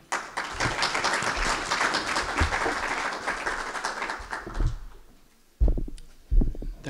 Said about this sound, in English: So it is your big round of applause, Dr. Sohail Chukwai.